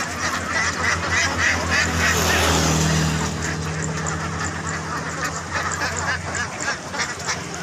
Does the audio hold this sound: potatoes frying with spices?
no